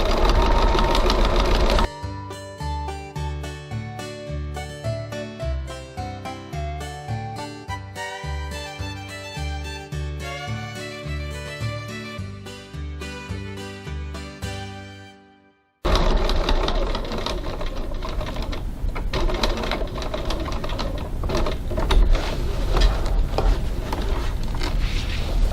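A sewing machine top stitching the long lines of a Genevieve bag runs steadily in rapid, even mechanical bursts, pauses briefly, then resumes with a louder, rougher whirring hum, close and alone without talk.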